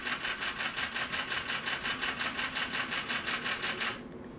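A Nikon DSLR shutter fires in a rapid continuous burst from about six feet away, a fast, even string of crisp mechanical clicks lasting several seconds before stopping.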